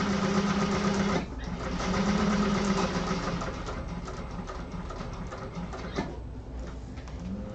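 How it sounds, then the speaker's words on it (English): Sewing machine stitching a garment lining, running steadily with a brief pause near the start and a short break before the end as the stitching reverses direction, a continuous close mechanical hum throughout. "make sure you back stitch at the start"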